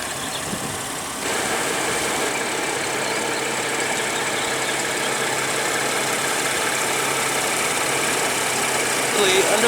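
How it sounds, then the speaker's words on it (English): A 2016 BMW 640i Gran Coupe with a 3.0-liter twin-turbo inline-six idles steadily nearby, a smooth continuous hum with a faint rise near the end. "Under the hood here, we have a 3-liter inline twin turbo 6-cylinder"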